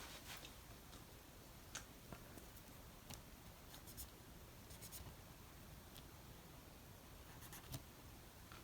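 A pen marks a tally on a paper game card during a Middle-earth Strategy Battle Game tabletop match, giving faint, scattered scratchy ticks and short strokes over quiet room noise.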